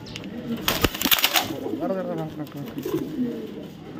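Racing pigeons of the BRPFC 2024 club coo softly at close range in a loft, a few low rolling calls with a brief flutter, while someone talks over them.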